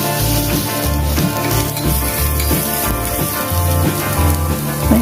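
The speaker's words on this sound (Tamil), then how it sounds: "இப்போ எண்ணெய் ஹீட் ஆகிடுச்சு. முதல்ல வெங்காயத்தை போட்டு நல்லா வதக்கிக்கலாம்." Onions sautéing in hot oil for vegetable rolls, a steady, loud sizzle and crackle with spatter and occasional stirring throughout.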